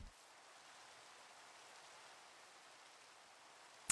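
Rain falling in The Citadel survival game, a steady faint hiss of broad noise holding evenly throughout with no voices.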